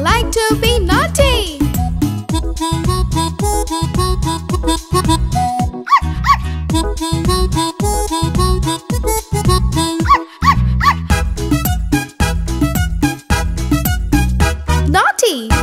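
A cartoon puppy barks and yips within a kids' nursery song about a bicycle, the barks set against loud continuous music and sung vocals throughout.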